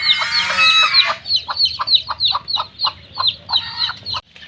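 Domestic chickens cluck loudly and close while feeding, a dense run of rapid repeated calls from several birds that thins into spaced clucks before cutting off.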